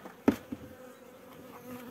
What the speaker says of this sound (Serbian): Ove su pčele baš ovdje ljute